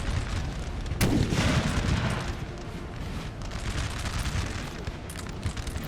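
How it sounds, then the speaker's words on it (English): Artillery fire from 4-pounder cannons in a Napoleon Total War battle, a loud blast followed by continuous dense rumbling gunfire and distant booms throughout. "You got 3 4-pounder cannons here."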